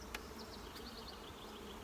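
Honey bees buzz steadily at an open hive during a colony inspection, a faint, continuous swarm hum with individual bees droning close by.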